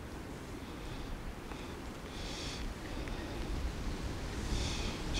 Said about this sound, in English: I'm going to wait because the wind's picking up